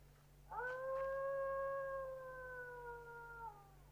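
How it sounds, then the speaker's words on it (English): A dog howls at night in one long, steady, mournful note that swells in and holds for about three seconds before fading, fairly soft over a low background hum. "The dogs are restless."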